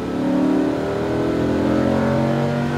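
A Lamborghini Huracan's engine revs steadily and loudly under acceleration on a racetrack, a sustained close, droning roar with no voices over it.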